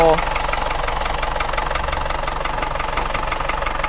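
A 2,500 cc turbo diesel in an Isuzu Spark EX pickup catches with a brief start and settles into a steady, knocking idle, close and loud, with a voice over it.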